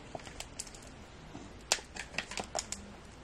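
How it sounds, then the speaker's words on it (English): A child's picture book has its pages turned during a bedtime story, giving scattered soft paper rustles and flicks with one sharper crisp turn near the middle, close and fairly quiet. "make sure it's only one page turning"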